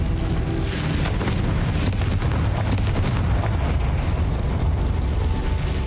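A Confringo blasting spell explodes in the Hogwarts Legacy video game, a loud, sustained, rumbling blast with crackling bursts that fills the whole stretch without pause.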